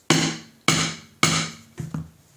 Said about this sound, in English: Hammer it down.